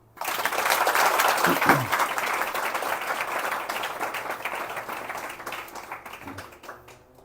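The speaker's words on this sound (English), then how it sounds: "Big clap for them." A small gathering at a Krishna house program in Holland applauds its hosts with steady, dense clapping. The applause begins sharply, holds for several seconds, then gradually thins out, with a brief vocal sound partway through.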